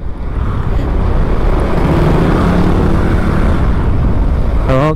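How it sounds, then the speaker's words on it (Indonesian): A 2024 Honda Beat Street 110cc scooter overtakes a truck at speed, its engine and wind roar steady and loud throughout with no one talking. "sekarang kita coba buat nyalip truk ya"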